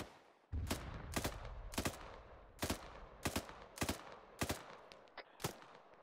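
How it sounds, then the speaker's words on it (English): Heavy booming shots repeat in a steady rhythm, about ten blasts, each sharp and echoing over a low rumble. "I can hear something like a heavy cannon to the north."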